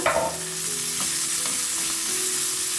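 Coriander leaves being stirred into a semolina batter in a bowl, a steady wet scraping and mixing that continues close and fairly loud for the whole stretch, with no talking.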